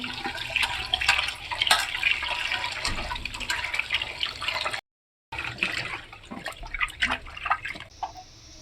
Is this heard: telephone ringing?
no